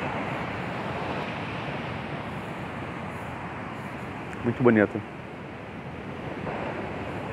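Ocean surf where the Douro River meets the sea gives a steady, close wash of breaking water mixed with wind noise. A voice comes in briefly partway through.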